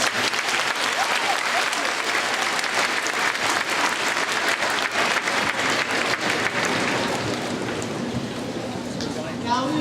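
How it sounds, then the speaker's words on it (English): Audience in a school assembly hall breaks into sustained applause, a loud, dense wash of clapping that holds steady for several seconds before thinning slightly near the end. "Give yourselves and each other a round of applause."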